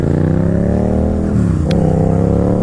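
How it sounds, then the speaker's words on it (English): A Honda Rebel motorcycle engine running just after a pop start, a loud, close, steady idle with a slight rise and dip in revs partway through and no talking. "I just pop started a Honda Rebel"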